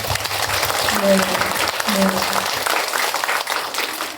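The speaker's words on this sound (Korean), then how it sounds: "큰 응원의 박수 부탁드립니다" A crowd claps in a steady wash of applause at a neighborhood residents' assembly in Eungam 3-dong, Seoul, with voices and a brief tonal sound mixed in, continuing throughout.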